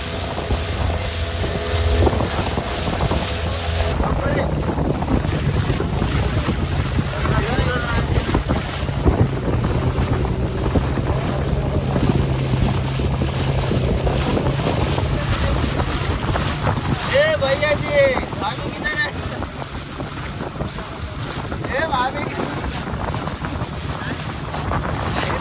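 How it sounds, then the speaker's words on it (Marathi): A boat moves under wind on Kundalika creek at Agrav during boat race practice. Constant wind buffets the microphone over a washing water rumble, with voices talking now and then throughout. "बोट चालली आहे"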